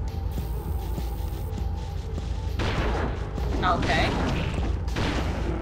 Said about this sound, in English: Time for the pulse rifle.